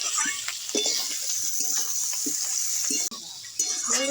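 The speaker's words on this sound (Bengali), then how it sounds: "দিয়ে আমি মশলার সঙ্গে কচু আলু ভালো করে কষিয়ে নেব।" Taro and potato stir-fried with spices in a pan, a bright continuous sizzle with quick scrapes and clinks of stirring close by, a brief dropout near the end, no talk.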